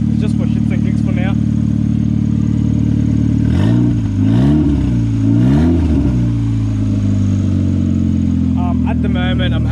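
A turbocharged Hyundai Getz running an open screamer pipe and a cheap, troublesome wastegate, with an idling drone broken by three sharp rev blips that rise and fall, loud and close, then settle back to a steady idle.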